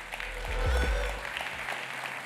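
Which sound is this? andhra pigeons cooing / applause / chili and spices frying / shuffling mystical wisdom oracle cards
applause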